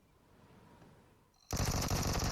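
Loud, dense automatic gunfire from the mobile battle royale game PUBG Mobile bursts in abruptly after a quiet stretch of low game ambience, continuing as a rapid sustained volley to the end.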